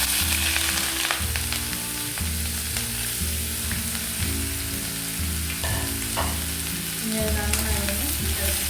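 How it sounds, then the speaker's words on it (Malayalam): Chopped brinjal sizzling and frying steadily in hot oil with mustard seeds, a loud continuous crackle with stirring scrapes for a Kerala-style thoran, no talk. "അപ്പോൾ കടുക് പൊട്ടിയിട്ടുണ്ട്. നമ്മുടെ വഴുതനങ്ങ കട്ട് ചെയ്ത് വെച്ചത് അതിലേക്ക് ഇട്ട് കൊടുക്കാം."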